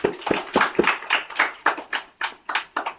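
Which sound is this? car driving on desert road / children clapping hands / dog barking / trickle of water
children clapping hands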